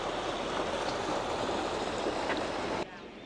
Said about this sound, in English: this here bit of running water